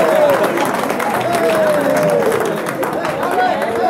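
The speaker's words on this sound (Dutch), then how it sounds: "Dus even een groot applaus." Crowd applause at an end-of-year dance party with a live band: loud, steady clapping from a sizeable audience that holds for the full stretch, mixed with cheering and chatter.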